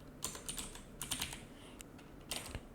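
Quick bursts of computer keyboard typing while entering a word into a search field in video editing software, a few clustered clicks with short pauses between, close and clear over a quiet background.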